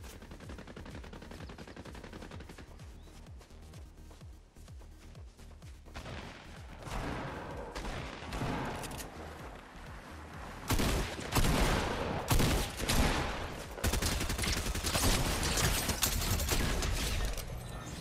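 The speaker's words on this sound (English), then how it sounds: "I heard a single gunshot." Gunfire in the Fortnite video game during a ranked zero-build solos match: scattered shots and bursts of rapid fire that build louder and denser toward the end, with no talk.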